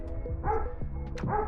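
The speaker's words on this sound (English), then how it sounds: "Excuse the dog barking, he'll be all right back there." A dog barking a few times from somewhere behind, with sharp, loud bursts and a short whimpering yip in between, on a garden plot in early summer.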